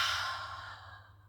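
A slow Ujjayi exhalation through a constricted throat, a soft breathy hiss that starts strong and gradually fades over about a second, close and alone.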